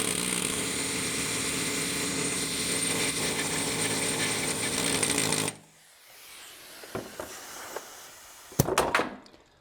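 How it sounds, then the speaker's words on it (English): Ratcheting wrench clicking against an injector stud on a truck engine, a sustained dense mechanical ratchet buzz for about five seconds, then quiet with a few sharp metallic clicks and clanks. "I am also going to hold the wrench on the bud stud so that I know it's not tightening or loosening on the injector"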